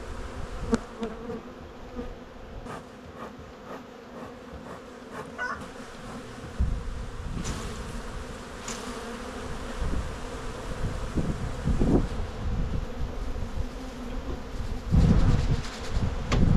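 Honeybees hum steadily around an opened hive, a dense, continuous buzz up close with occasional louder passes of individual bees and light handling noises.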